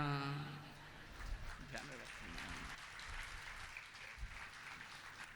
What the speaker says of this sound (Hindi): अरे ताली बज रही